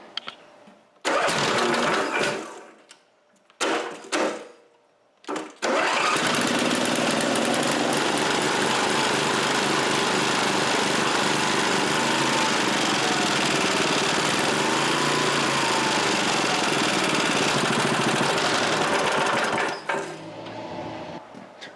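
Rebuilt Briggs & Stratton 7HP Model 17 small engine with its original muffler: a few short cranking attempts, then it catches and runs with a steady, loud, even drone before being shut down.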